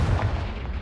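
Confringo blasting spell exploding in Hogwarts Legacy, a single deep booming blast with a rumbling low end that fills the short moment, with no voice over it.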